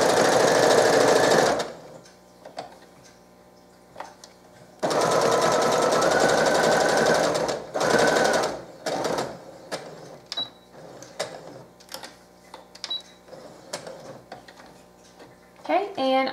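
Sewing machine stitching a fabric bean bag: long steady motor runs in bursts, a sustained buzzing stretch near the start and another mid-way, separated by quieter gaps with small clicks and someone talking in between.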